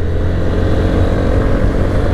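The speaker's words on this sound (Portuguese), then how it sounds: "A Cleia se diverte na garupa dessa moto" Motorcycle carrying a rider and a passenger through the streets of Palmas, Tocantins, its engine a loud, steady low drone close to the mic with constant road and wind rumble.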